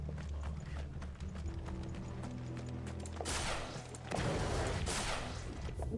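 Horses clip-clop in the video game Final Fantasy XVI, hooves sounding steadily over a low rumbling score, with louder bursts of combat noise swelling in the second half.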